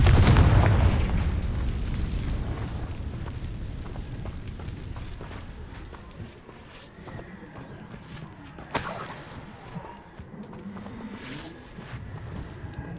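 An explosive spell blast in the Hogwarts Legacy game: a loud, deep boom at the start that decays into a long rumbling tail, followed by scattered clattering debris and a sharp crack later.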